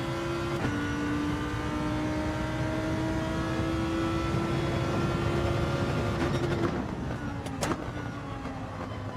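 In Gran Turismo 7, a race car engine holds a loud, sustained whine that climbs slightly and then dips near the end, with sharp tire and track noise over a constant roar.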